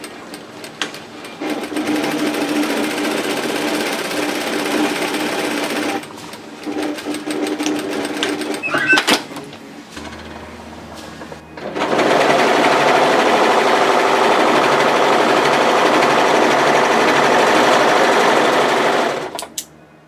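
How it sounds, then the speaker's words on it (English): A sewing machine stitches a seam on fabric for a flounce beach wrap cover-up, running loud and steady in long close bursts with a short pause and quieter handling between runs. "We're going to sew this together at a 1 centimetre 3/8 of an inch seam allowance"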